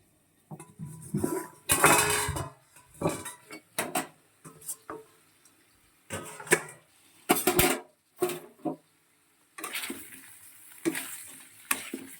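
Metal cooking pots and utensils clink and clatter in a home kitchen while shrimp curry with olkopi is being made. Bursts of scraping and knocking come in short, separate groups, with a light splash of water in the mix.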